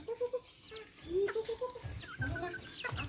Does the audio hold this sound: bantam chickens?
yes